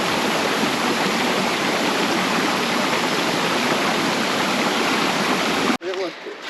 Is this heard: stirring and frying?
no